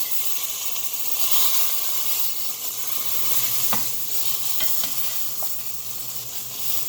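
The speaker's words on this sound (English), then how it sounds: "all sides have been seared. Just pan seared." Pork tenderloin sears in a hot pan with a steady, close sizzle and frying hiss throughout, broken by a few brief scrapes and taps of a utensil as the meat is turned.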